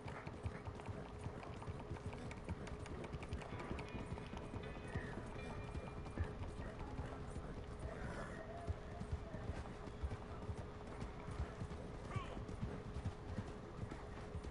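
Hooves clip-clop in a quick running rhythm as a horse gallops in the Red Dead Online video game, a steady patter of hoofbeats under continuous background game sound, with an occasional whinny.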